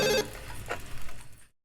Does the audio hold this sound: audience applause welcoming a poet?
no